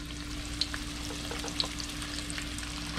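Bluegill fish fry in hot oil with a steady close sizzle and crackle, broken by a few small pops and spatters. It is moderately quiet and heard alone without talking.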